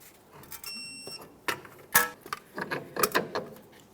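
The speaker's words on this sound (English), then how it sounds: "Let's torque this to 41 foot-pounds." Torque wrench tightening a ball joint nut on a 2002-2005 Ford Explorer during a wheel hub replacement, a series of close metallic clicks and ratcheting clatters, irregular and sharp, with a brief tonal ring near the start.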